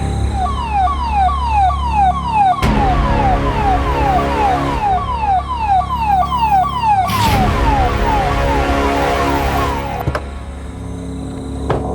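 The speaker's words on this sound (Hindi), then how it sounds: "एम्बुलेंस" Ambulance siren wailing loud and close in a repeating rising electronic sweep, cycling steadily for the whole stretch over a low traffic rumble, with two brief bursts of broadband noise and no talk.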